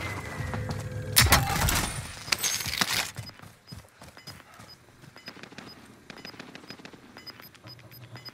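Bursts of automatic gunfire crackle loudly in Call of Duty: Modern Warfare multiplayer, densest early on, then give way to scattered distant shots and faint beeping in the background.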